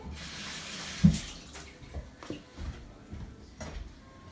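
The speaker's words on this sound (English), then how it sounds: "let me wash my hands really quickly" Hands being washed under a running kitchen tap, a soft steady stream of water with splashes and a clunk of the faucet or sink, close and moderately quiet, without talking.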